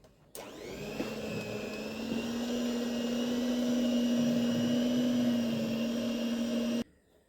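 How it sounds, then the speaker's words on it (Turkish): An electric hand mixer whisks milk pudding in a home kitchen, running as a steady loud whirring drone that holds nearly seven seconds before it cuts off abruptly. "bu şekilde mikserle bir süre çırpıp kıvam alıncaya dek çırpmaya devam edelim."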